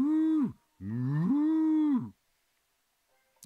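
A cartoonish cow-fish moos twice in a Dora undersea video game, each call a long, loud, tonal low moo with a falling end, followed by near silence.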